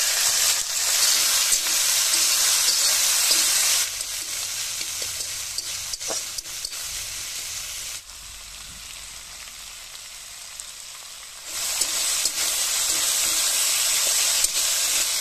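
Bitter gourd frying in oil with garlic fried to about half-browned, giving a steady, loud sizzle and hiss with stirring. The sizzle dips quieter in the middle and then returns strongly. No talk.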